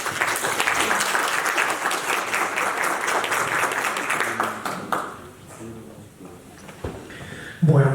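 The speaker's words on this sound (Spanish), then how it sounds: "lo recibimos con un fuerte aplauso" Sustained audience applause greeting a panel of speakers at a morning event, a dense steady clapping that holds for several seconds before thinning out, followed by a brief voice and a microphone knock.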